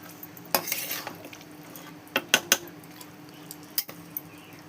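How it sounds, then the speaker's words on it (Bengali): Meat sautéed in a pot gives a quiet sizzle under several sharp, separate clinks and scrapes of a spoon against the metal, close and intermittent. "মাংসগুলো দিয়ে দিয়েছি, এবার মাংসগুলোকে কষিয়ে নেব ভালো করে"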